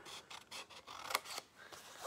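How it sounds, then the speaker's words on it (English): Scissors snipping scored paper for an Easter basket, a few quiet, crisp cuts in quick succession up close. "I'm just gonna cut with my scissors just up to that first score line."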